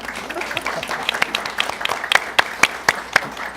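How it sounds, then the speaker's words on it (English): A studio audience at KCPT claps for a public-television talk show, scattered individual claps standing out sharply from a softer bed of applause. "Give yourself a nice round of applause"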